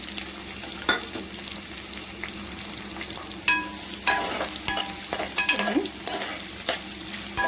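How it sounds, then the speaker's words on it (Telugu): Chopped onions and green chillies hiss in hot oil, a close, steady sizzle with occasional sharp spatters and scraping stirs of a spoon, no voices present. "కట్ చేసి పెట్టుకున్న పెద్దుల్లిపాయలు, పచ్చిమిర్చి వేస్తున్నాను"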